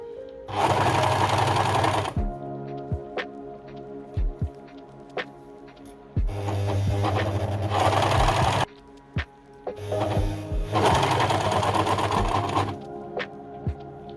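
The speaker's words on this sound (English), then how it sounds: "And now I will start to overlock both sides together of the hat" An overlocker sews both sides of a baby hat together in three loud bursts of rapid mechanical whirring, separated by short pauses with small clicks and handling noises, close by.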